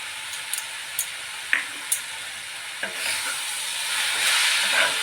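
Milk being stirred into patishapta pitha batter, with light spoon taps against the bowl, then a soft continuous swishing that grows louder toward the end.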